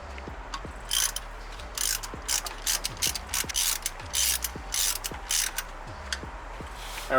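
A ratchet clicks rapidly and rhythmically while tightening oil pan bolts on a Nissan 350Z, close and clear, in repeated short runs of pawl ticks with brief pauses between strokes.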